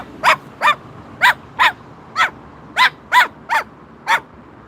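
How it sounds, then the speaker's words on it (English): A Moluccan cockatoo calls out in a rhythmic series of about ten loud, harsh, bark-like squawks, evenly spaced and close by, reacting to a neighbor's dog outside; the calls sound like a dog barking. "Max is too busy telling me all about a neighbor's dog that's out right now"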